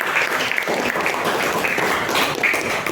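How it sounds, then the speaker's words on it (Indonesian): A classroom of students claps for a classmate, a loud, dense and steady burst of applause that fills the room without letting up. "Beri tepuk tangan buat Mas Reza"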